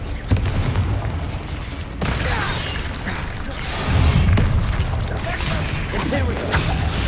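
A Confringo explosion spell goes off in a wizard video game, with dull booms and crashing impacts over a dense, continuous game soundscape, swelling louder in the second half.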